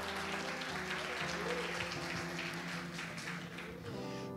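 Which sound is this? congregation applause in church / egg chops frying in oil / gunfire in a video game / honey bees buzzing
congregation applause in church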